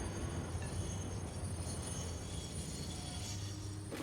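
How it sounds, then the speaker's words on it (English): Trains roll along a rail route in the Satisfactory video game, giving a steady rumbling rail noise with faint high wheel squeal throughout. "the trains come up this little route here, in through the little gates there"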